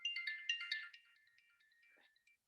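Wristwatch alarm beeping in a physics classroom, a run of bright electronic chirps that trails off into fainter tones, with no talk over it.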